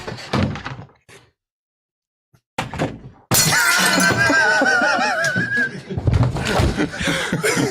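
A glass table or plate shatters in a loud, sudden crash that rings out alone, followed by voices and brief laughter close by.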